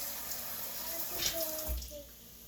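Water runs and splashes from a tap or measuring cup while being added to seasoned taco meat for street tacos, a soft continuous hiss and trickle, fairly faint against a kitchen background.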